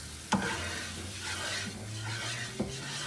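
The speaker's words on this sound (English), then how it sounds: "10 minutes of cooking the butter with the flour to get the roux" A butter and flour roux sizzles in a pan on the stove for jambalaya, with a constant frying hiss broken by a couple of light scrapes and clinks of a utensil stirring against the pan.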